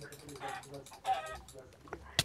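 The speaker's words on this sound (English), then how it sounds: "Look at that chicken. Chicken behind you." A chicken in Minecraft gives a few short, close clucks in quick bursts, with a sharp click at the very end.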